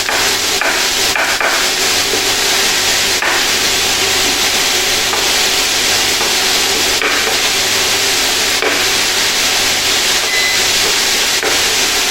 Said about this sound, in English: Make sure you break up the mincemeat